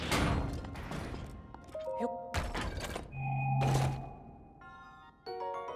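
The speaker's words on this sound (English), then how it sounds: "You can hear the gate opening and closing." Stone gate in The Legend of Zelda: Breath of the Wild, Champion's Ballad DLC, grinding open and shut with heavy thunks and chime-like tones, a few separate clunks spread across the stretch.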